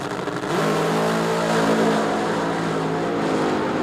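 Drag racing cars stage at the 1976 NHRA Springnationals, their engines holding a loud, steady, rumbling roar with a rich harmonic drone throughout and no clear launch.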